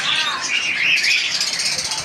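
Parrots and other birds in a bird shop produce loud, continuous high-pitched chirping and squawking close by, with brief rustling underneath.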